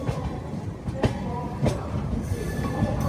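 AP Sampark Kranti Express train running near Jhansi station, a steady rolling rumble of carriages with a few sharp clicks from the wheels over rail joints, fairly close and continuous, with no voices.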